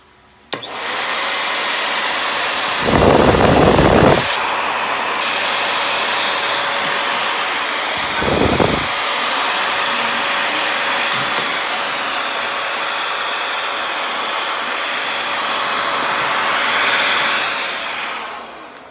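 A vacuum cleaner drones steadily and loudly near a ferret cage, interrupted by two short bursts of harsher rattling suction noise, then winds down at the end.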